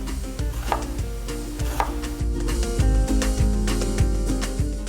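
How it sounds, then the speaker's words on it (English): A kitchen knife chops through an onion on a cutting board for steak tacos, with crisp, fairly close, irregular strokes over steady background music. "I try to chop it to where I don't have any of the seeds on the inside"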